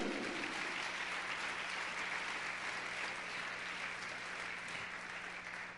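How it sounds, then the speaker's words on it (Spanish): A church congregation applauds Jesus with a continuous wash of clapping from many hands, steady and fairly distant, holding at an even level throughout with a faint low hum underneath. "Dale un fuerte aplauso a Jesús."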